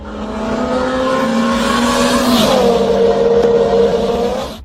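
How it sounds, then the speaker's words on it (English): A car speeds down an empty motorway at night, its engine droning loudly with a falling pitch as it rushes past close by. "You can see a car racing down the road at lightning speed."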